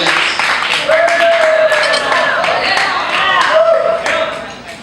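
An audience at a live poetry and performance art show claps and snaps, with quick sharp taps scattered through a steady mix of voices and bright whistle-like tones.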